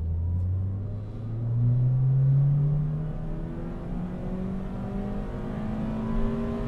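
A Renault Wind 1.6 133hp with a modified exhaust rumbles close by, its engine note climbing through a rev then settling into a steady low drone, with no talking.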